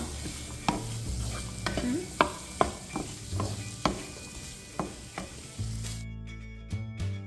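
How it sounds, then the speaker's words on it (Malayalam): Butter chicken stirred in a pan with a spoon, sharp scraping clinks recurring about every half second over a low sizzle, close and clear, with no talk. "നന്നായിട്ട് ഇളക്കി കൊടുക്കുക."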